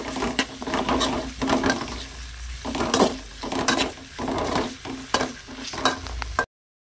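Tomatoes and masala for chicken curry fry in a pan while being stirred, a loud sizzle broken by repeated scraping strokes of a spoon against the pan in an uneven rhythm, then cutting off abruptly.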